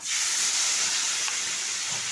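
Black cumin seeds sizzling in hot mustard oil left over from frying fish, a steady loud hiss that holds evenly throughout, with no talking.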